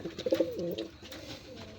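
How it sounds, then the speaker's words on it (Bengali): Soft cooing of black Baghdadi pigeons, a few rolling low coos close by, with faint background noise. "বাগদাদি, কালো বাগদাদি কবুতর।"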